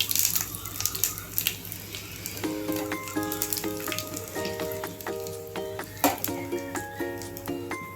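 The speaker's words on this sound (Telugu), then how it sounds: "నూనె వేడైందండి. ఆవాలు వేసేసుకుందాం. మిరపకాయలు వేసేసుకుందాం." Mustard seeds and dried red chillies sizzle in hot oil as a tempering in a home kitchen, a steady crackling hiss under faint background music, with a few sharper pops and clatters.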